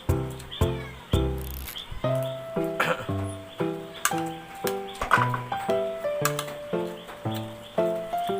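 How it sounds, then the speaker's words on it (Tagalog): Several pet cats meowing loudly and repeatedly close by, a string of insistent, tonal meows one after another with short gaps, some drawn out into wailing calls. "Ingay na yung mga pusa ko."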